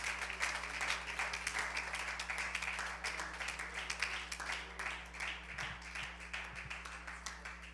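A church congregation applauds the Lord in steady, dense clapping that carries throughout, with faint voices and low background hum beneath.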